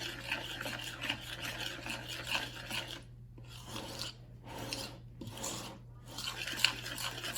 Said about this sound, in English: we're gonna go back to stirring that in